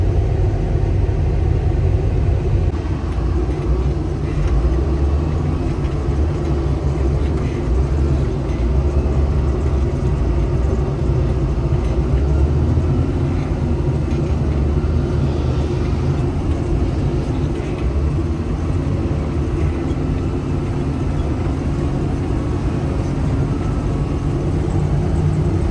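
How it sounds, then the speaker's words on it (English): Road traffic after a snowstorm in the countryside, a steady, loud, continuous rumble of engines and tires that holds unbroken for the whole stretch, with no voices over it. "Traffic everywhere"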